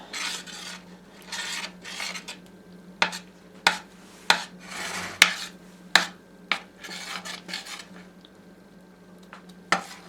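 A utensil scrapes and clinks against a bowl, stirring potato pancake batter with eggs in irregular strokes, with a low steady hum in the background; no talking.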